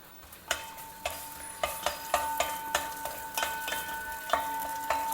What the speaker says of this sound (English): Fry it very well in the ghee